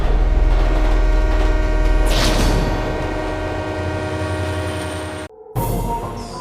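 A train rumbles past with a loud, sustained horn blast and heavy low-end rumble, a brief whoosh as it passes, then a short dropout before the noise resumes.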